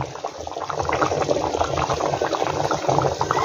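Water pours into a pot of beef and potatoes being cooked Bengali style, a loud, close, continuous bubbling gush with no talk.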